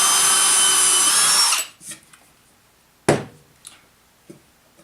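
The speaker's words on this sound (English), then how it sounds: "I'm going to drill" A power drill whirs loudly for a second and a half while drilling wood to secure a drawer bottom, then winds down, followed by a few sharp knocks and clatters of wood.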